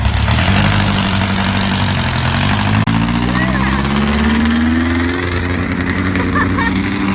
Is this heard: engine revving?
yes